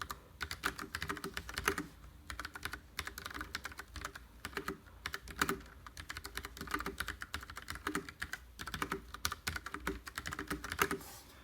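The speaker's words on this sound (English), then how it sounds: "I'll just give you a sound sample of the Cherry MX Browns that are on here." Fairly quiet, continuous typing on a Ducky Shine 6 mechanical keyboard with Cherry MX Brown switches and ABS keycaps. Keystrokes patter quickly and steadily, with no voice.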